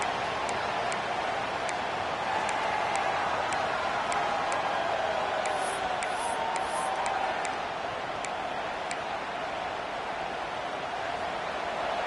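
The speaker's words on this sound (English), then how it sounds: "Decibels rising as the crowd gets behind this defense on 3rd down." Stadium crowd at a Utah State versus Notre Dame college football game roaring behind the defense on third down, a steady, dense wall of far-off crowd noise with faint clicking ticks above it, lasting throughout.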